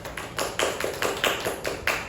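A classroom applauds a student during a microteaching session, with about eight distinct, evenly spaced claps in a steady rhythm, close and moderately loud, sounding like a few people clapping together.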